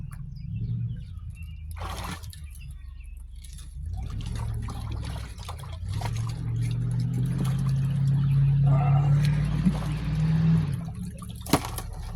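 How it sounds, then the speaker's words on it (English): Water sloshing and swirling in a gold pan during prospecting, a steady close wash of liquid with low rumbling, rising and surging through the middle before easing off, with a brief sharp knock near the end. "let's see if I can do a pan on camera here"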